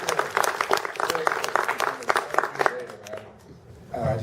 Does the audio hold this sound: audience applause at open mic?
yes